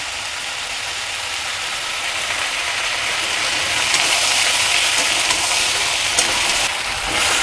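Spices and ingredients sizzling in a hot pan for a Bengali fish-head and greens curry, a steady dense hiss that swells slightly midway and carries on without pause.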